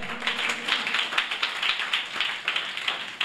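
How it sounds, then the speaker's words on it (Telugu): Hands of a church congregation clap together in a steady, rapid, loud rhythm, many palms striking at once with no voices over them. "కొట్టు చప్పట్లు"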